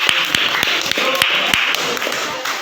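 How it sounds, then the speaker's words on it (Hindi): A classroom of students applauds, a scattered run of claps with sharp individual hand strikes standing out over steady broadband clatter, with some voices mixed in. "तालियां बजाइए।"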